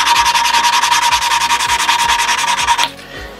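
Rhythmic back-and-forth rasping as a Toyota 3SGTE valve is lapped against its seat with grinding compound, steady and close, about a dozen quick strokes before it stops abruptly near the end.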